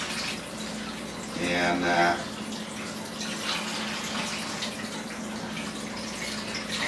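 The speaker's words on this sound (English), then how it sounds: "Wash these tomatoes down," Tap water runs briefly into a sink while tomatoes are washed by hand, a short splashing stream under steady background noise, with a person speaking nearby.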